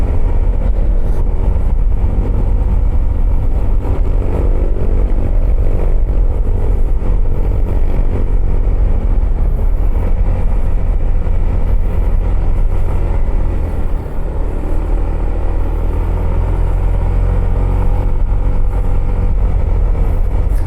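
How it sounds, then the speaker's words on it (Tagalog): A motorcycle engine drones loudly and steadily throughout, with rumbling, revving swells and no talking. "Ingay ng motor ni Alex."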